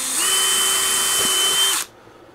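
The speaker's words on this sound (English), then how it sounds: "Drill in that line, then put one in the middle." A power drill whines steadily at high speed through a cedar board for nearly two seconds, then cuts off abruptly, leaving quiet.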